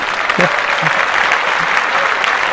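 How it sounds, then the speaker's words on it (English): Loud applause from a small audience in a podcast studio, a close, dense clatter of clapping hands running throughout, with a few brief voices mixed in beneath it. "Clap that up."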